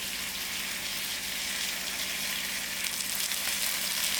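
Ginger, garlic and green chilies frying in a pan for a lamb chop chutney, giving a continuous soft hiss and sizzle with no talking.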